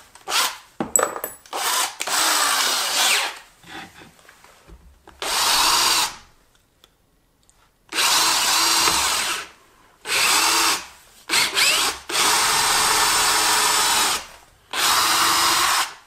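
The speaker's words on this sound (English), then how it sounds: "So I've drilled my pilot hole and my clearance hole and also my plug hole all at the same time." A power drill with a combination bit bores a pilot, clearance and plug hole into wood in several loud, close whirring bursts of a few seconds each, separated by short silences and a few light knocks.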